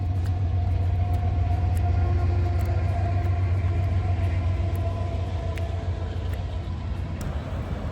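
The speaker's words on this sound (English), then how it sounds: "We had like a 4-mile train or something just drive past." Heavy low rumble of a very long freight train rolling past outdoors, steady and loud throughout with faint metallic clicks and squeals over the drone.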